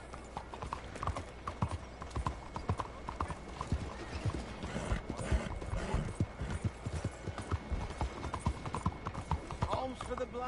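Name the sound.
horse hooves clip-clopping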